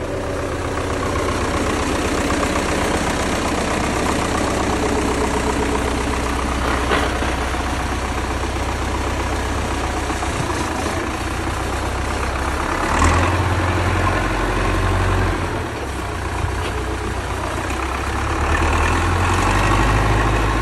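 A 2014 MTZ tractor engine idles steadily at close range, driveshaft removed, a low continuous rumble with a few brief knocks and rattles and no talking.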